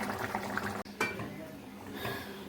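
Raw meat drops into a pot of onion-juice water in a home kitchen, giving a brief soft thud and splash followed by clattering metal utensils and dish sounds, close and steady with no talking.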